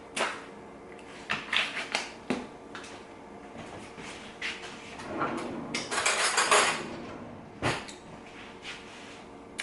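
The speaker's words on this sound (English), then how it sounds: "We better get another spoon, one that's a little cleaner maybe." Metal spoons and cutlery clatter and clink in a kitchen drawer as a cleaner spoon is fetched. Close, irregular bursts of rattling come in several clusters, with a denser jangle partway through and sharp clinks near the end.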